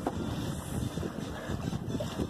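Wind on a sailboat running downwind, a steady low rushing and buffeting against the microphone with faint water and hull noise, no one talking.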